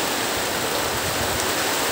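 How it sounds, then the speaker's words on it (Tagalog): Heavy rain pours down in a dense, loud, unbroken roar of broadband noise, close and steady without distinct drops or voices. "Lakas ang ulan, no?"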